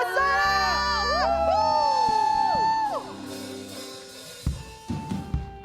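A church congregation at a new-year worship service whoops and shouts loudly together, a sustained rising cheer that fades after a few seconds into scattered claps and voices.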